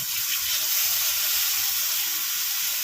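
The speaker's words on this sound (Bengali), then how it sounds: "তো এবারে বেগুনটা আমি ভালো করে ভেজে নেব" Eggplant slices frying in oil in a kadai over lowered heat, a loud continuous sizzle and hiss close up, with no talking.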